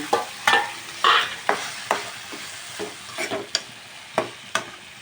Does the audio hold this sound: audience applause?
no